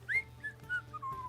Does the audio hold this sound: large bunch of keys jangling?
no